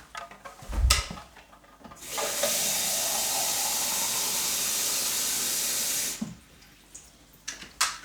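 Water pours in a steady, close, hissing rush for several seconds while a Tassimo Suny coffee machine's tank is refilled after descaling, framed by brief knocks and handling clatter before and after.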